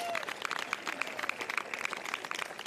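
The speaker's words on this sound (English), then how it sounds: "could we please give them a particular round of applause" Light, steady clapping from a modest crowd at a softball grand final honours the groundsmen, thin and somewhat distant with no cheering.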